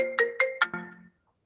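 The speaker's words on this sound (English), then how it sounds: "I'm sorry about the phone call." A phone ringtone sounds during an online forum on e-mobility: four bright, clear chime tones in quick succession, then a lower sustained note that cuts off, heard alone with no talk.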